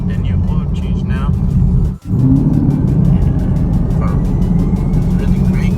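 2017 Chevrolet Camaro SS driving with a steady engine and road drone, heard from inside the cabin while someone talks over it.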